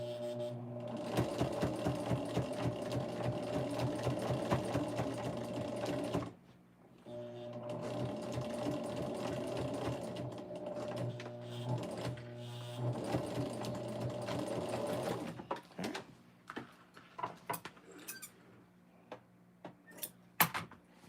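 A sewing machine top-stitches a zippered fabric bag in close, loud bursts of rapid needle chatter, pausing briefly between runs, then a few scattered clicks and handling sounds at the end.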